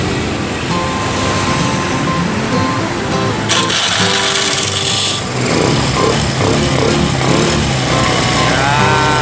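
A repaired Honda Vario automatic scooter engine runs steadily and loudly nearby with a continuous mechanical drone, shifting in tone partway through as it keeps running.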